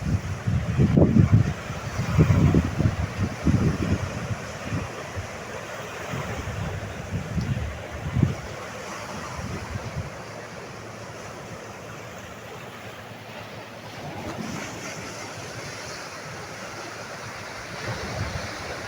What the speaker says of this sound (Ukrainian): я замовкаю, щоб ви могли насолодитися саме музикою моря нашого, нашого рідненького, чорноморського